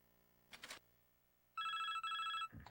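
Telephone ringing in the NASCAR 2005: Chase for the Cup video game: two clear electronic ring bursts back to back, loud and close, with brief broadband clicks before and after.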